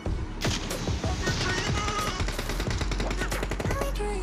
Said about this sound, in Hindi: वो शूट कर रहा है